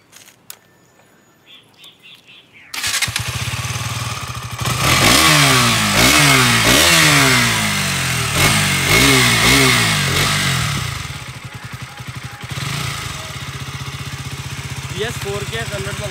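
A KTM 200 Duke BS6 motorcycle engine revs repeatedly after a quiet start, climbing and dropping in pitch with several sharp throttle blips before settling into a steady idle, loud and close.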